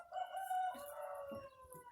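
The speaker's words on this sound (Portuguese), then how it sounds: "E o Galo resolveu cantar agora na hora que eu comecei a gravar." A rooster crows once in a backyard, a drawn-out, tonal cock-a-doodle-doo that is fairly faint and a little distant, heard alone without talk.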